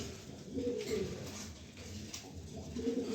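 A male racer pigeon coos in short repeated low phrases, close and fairly quiet, with faint background hiss between calls.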